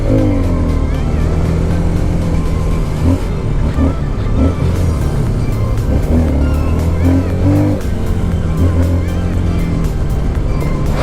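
A Chinese NK 150 dirt bike engine runs loud and close while being ridden, a continuous throbbing drone with shifting revs, with wind rush and a rider's voice partly underneath.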